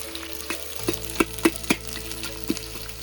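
Spices, sliced green chillies and chopped onions sizzle in a pan for an egg drumstick curry, with a steady frying hiss and several sharp clacks and scrapes from a utensil, close and clear.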